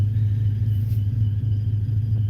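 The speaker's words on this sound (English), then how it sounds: "Oh man, she's shifting hard." A car with a worn 545RFE automatic transmission, run hard on nitrous and boost, gives a loud, close, steady low engine rumble throughout with no break or talk.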